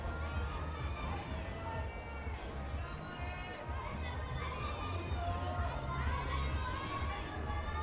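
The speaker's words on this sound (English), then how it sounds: "Plenty of encouragement coming from the crowd." Crowd at a youth lead climbing world championship in Innsbruck calling out encouragement to a climber, a continuous distant wash of shouts and chatter with some high young voices.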